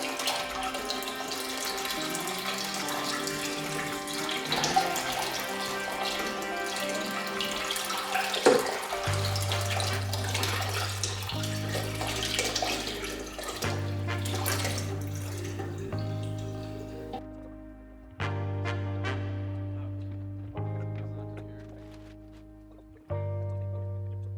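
Water pours and gurgles steadily into a turtle and fish aquarium, its pitch shifting as the tank fills, ending in a series of hollow, resonant tones.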